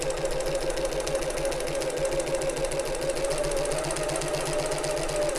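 A sewing machine runs steadily alone, stitching a seam line on a backpack with a couple of backstitches, its fast even hum and rapid needle pulse continuing close and unbroken throughout.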